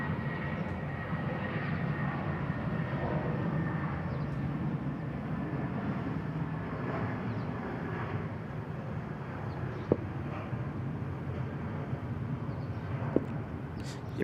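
An IndiGo airliner departs Bangkok Suvarnabhumi Airport for Bengaluru, its engines a steady broad roar that holds fairly even throughout, heard from a moderate distance with no talk over it.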